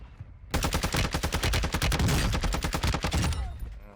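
A sustained burst of rapid automatic gunfire in Call of Duty Warzone 2.0 on the Vondel map. Shots hammer in a fast, even rhythm for about three seconds, loud and close, then cut off.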